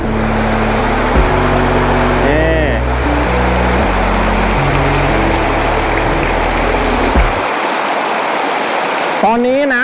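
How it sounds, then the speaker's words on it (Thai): A large jungle waterfall pours over layered rock into a pool at the end of a forest stream, a loud continuous rushing roar close by, with someone talking over it and tonal engine-like drones at times. "นี่ก็จะเป็นน้ำตกไหลผ่านชั้นหินลงไปนะครับผม"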